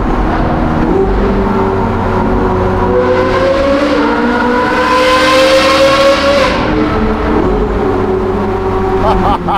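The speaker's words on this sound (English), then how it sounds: "Now this is the moment where I think that Speciale is going to come flying past me." Ferrari Speciale sports car approaching and flying past, engine note rising and falling as it sweeps by, loud and close with a revving, doppler-like pitch shift.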